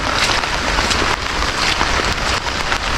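Heavy rain pours steadily onto a surface nearby, a dense, loud hiss with scattered patters and no voices.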